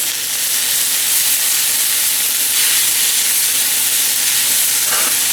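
Garlic and parsley frying in a pan, a loud, steady sizzle and hiss close up that runs without a break, with a faint clink near the end.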